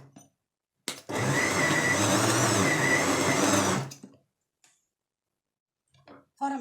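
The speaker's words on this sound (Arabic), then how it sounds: "هنروح على الكبه بتاعتنا ديت علشان نعمل ايه؟ نفرم القوانص" An electric meat grinder mincing chicken gizzards, a loud steady motor whir running about three seconds close by, starting and stopping abruptly, with quiet moments around it.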